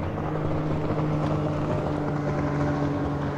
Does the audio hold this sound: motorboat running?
yes